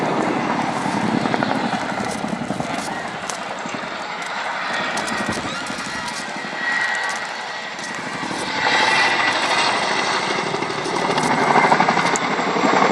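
A Royal Air Force Chinook helicopter's twin rotors and engines roar steadily throughout at an air show, loud and close, with a rhythmic thumping texture and swells in intensity.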